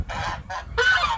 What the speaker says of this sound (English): there's a goose that keeps pacing the fence for some reason